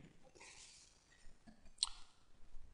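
A few faint computer mouse clicks spaced apart in a quiet room, soft and close, with no talk.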